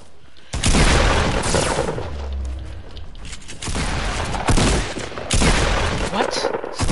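Rapid, loud shotgun blasts in the Fortnite video game, fired in close bursts through the whole stretch with heavy booming impacts, a voice faintly mixed in.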